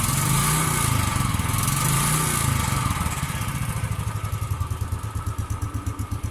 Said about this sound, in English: So the engine is surprisingly really quiet.